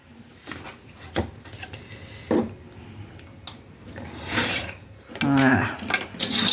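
Paper being cut by hand while making a small ring-bound mini album, heard as close, intermittent rasping and scraping strokes with light handling noises between them.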